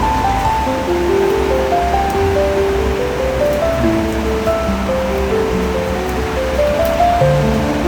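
Taakla leaf greens frying in a pan over a traditional wood-fired stove give off a steady, loud, dense sizzle and crackle that holds even throughout, with no speech over it.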